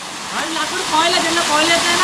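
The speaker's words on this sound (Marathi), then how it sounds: "हाच तो धबधबा आपला बारमाई धबधबा गोधवण्याचा धबधबा" Dhodhavane's perennial waterfall in the Sahyadri hills, in summer, pours with a loud, close, continuous rushing roar, and a voice speaks over the water.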